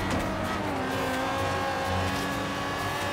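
Racing car engines in the Forza Horizon 3 video game, a steady loud droning roar of several cars at speed with no pauses.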